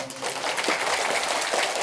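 Audience at a religious gathering commemorating Shaikh Abdul Qadir Jilani in East Lombok, clapping in a brief burst of dense, continuous applause from a crowd.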